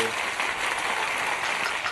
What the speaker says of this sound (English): Big round of applause for Blue Blur 1992.